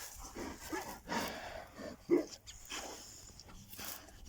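Dogs close by pant in quick rhythmic breaths, with one short sharp bark midway and a few snorts around it, no people talking.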